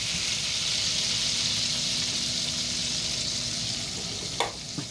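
Butter sizzles and fries steadily in a pan with lemon, a continuous close crackling hiss that fades slightly toward the end, with a couple of light utensil clicks.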